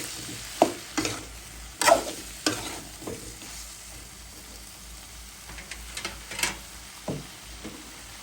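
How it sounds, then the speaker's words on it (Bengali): Vegetables such as beans, potato, eggplant and tomato sauté with shidol dried fish in a pan: a low sizzle under repeated sharp scrapes and clacks of a stirring spatula, irregular and close, with no voices. "একসাথে কষিয়ে যাবে।"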